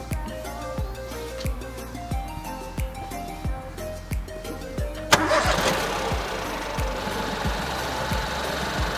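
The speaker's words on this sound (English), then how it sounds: "I'm going to go start the car" A Ford Fiesta MK8 engine cranks with a rapid series of starter pulses, then catches with a sudden loud burst and settles into a steady, close-up idle.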